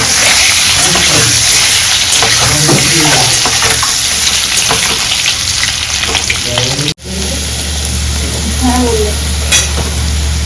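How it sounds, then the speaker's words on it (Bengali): Onions sizzle loudly and continuously in hot oil with whole spices, with scraping stir sounds and a short cut partway through before the frying resumes. "এখানে আমার পেঁয়াজ ভাজা হচ্ছে গোটা গরম মশলা দিয়ে পেঁয়াজটা ভাজছি"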